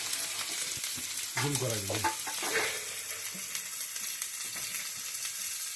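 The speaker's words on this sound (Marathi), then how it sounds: "कांदा बाजून घेऊ आता." Chopped onion sizzles in a hot pan for an egg dish, a steady bright hiss running throughout, with a short burst of a voice briefly over it near the start.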